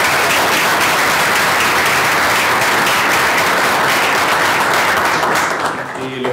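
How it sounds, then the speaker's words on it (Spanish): A seminar audience applauds after a presentation on acoustic camera beamforming: dense, steady clapping at full loudness for about six seconds, thinning and tapering off at the very end. "Ok, le damos un aplauso"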